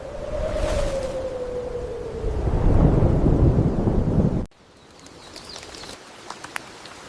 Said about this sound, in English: It is only a little rain.